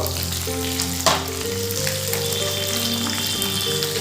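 Tomatoes dropped into hot oil for a Bengali spicy potato curry sizzle loudly and steadily in the pan, with a brief clatter near the start and continuous frying hiss throughout.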